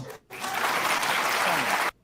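A crowd of football fans bursts into sustained applause for about a second and a half, loud and close, then stops abruptly; a little talk comes before it.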